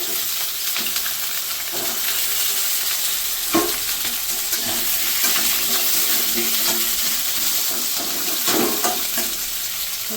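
Jackfruit seeds and potatoes fry in hot oil, giving a steady broadband sizzle with occasional stirring scrapes and clinks, close and continuous, with no one talking.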